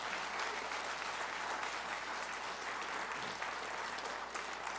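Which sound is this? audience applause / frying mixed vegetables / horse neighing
audience applause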